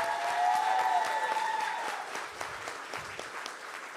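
Audience clapping at a public city council meeting, moderately loud at first with a brief tonal squeal over it, then thinning into scattered, fading claps.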